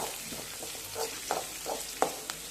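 Onions for bajji frying in hot oil, a soft steady sizzle with faint crackles and a few light stirring clinks, close and fairly quiet, no voices.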